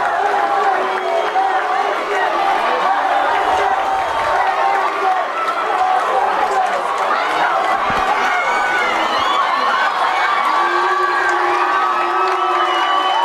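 A baseball crowd of more than 5,000 cheers continuously at UCCU Ballpark during a 6A high school championship game, a loud, steady roar with whoops and shouts and a commentator talking over it.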